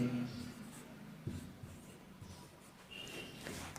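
Marker or pen writing numbers on a board or page during a maths lesson: soft, faint scratchy strokes, quiet and close, with a brief low thump partway through.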